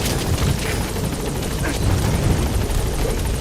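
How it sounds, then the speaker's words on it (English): Support helicopter arriving in the video game Metal Gear Solid V: The Phantom Pain, rotor thumping loudly and steadily with a whooshing engine wash as it approaches. "Support helicopter has arrived."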